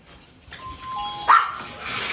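An electronic doorbell chimes twice in a quick ding-dong, clear and close, with a rush of noise swelling afterward.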